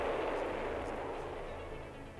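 Rockets launching and flying as missiles in the VR game First Contact, a dense, continuous roaring blast that stays loud and close for the whole stretch.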